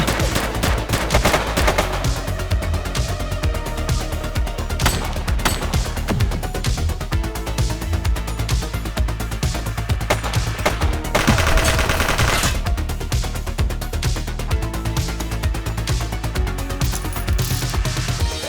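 Gunfire rattles through a police action game, The Precinct, as loud, dense bursts of shots and automatic fire repeat steadily over a continuous background.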